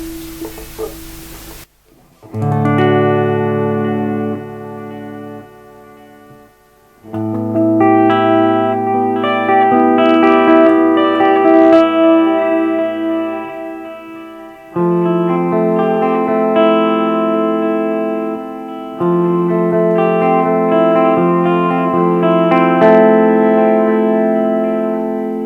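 Electric guitar played through a Boss DD-500 delay pedal, sustained chords and notes ringing out with repeating echo trails across several loud passages separated by brief pauses, no talking.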